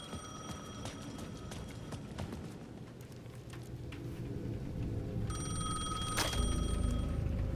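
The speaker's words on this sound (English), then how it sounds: "The payphone at the edge of the plaza was ringing again." A payphone in the video game Alan Wake 2 rings with bright electronic bursts over a low ambient hum, growing denser toward the end.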